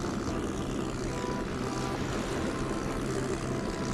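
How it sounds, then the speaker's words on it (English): A loud airship engine from the Trails in the Sky video game drones steadily throughout, a dense continuous propeller-like roar with no talking. "That engine's loud as hell."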